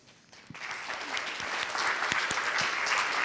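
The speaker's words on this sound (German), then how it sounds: "Das ist euer Applaus nochmal." An audience at a Jugend hackt youth hackathon event in Munich bursts into applause, starting with a few claps and swelling quickly into dense, sustained clapping from a large crowd.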